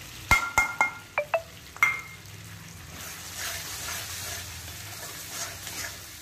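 Onion paste going into hot oil with ginger and garlic for paneer masala: a quick run of sharp metallic clinks from a spoon against the pan, then a soft, steady frying hiss.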